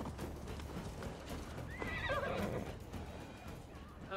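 Hooves clip-clop at a gallop as a horse whinnies sharply in Assassin's Creed Valhalla, a single rising neigh over quick, close hoofbeats and faint talk.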